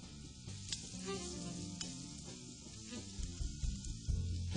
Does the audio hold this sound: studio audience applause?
no